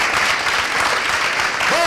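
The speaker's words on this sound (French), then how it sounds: "il faut applaudir pour la parole." Applause from an audience at a lively French apéro gathering, continuous crowd clapping filling the short moment with a brief voice rising over it near the end.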